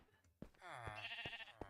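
A Minecraft cow lets out a single drawn-out moo, fairly close and clear, with brief thumps at its start and end.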